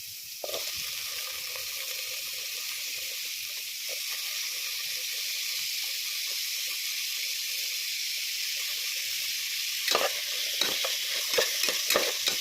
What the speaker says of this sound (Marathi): टोमॅटो छान असा फ्राय करून घेणार आहोत.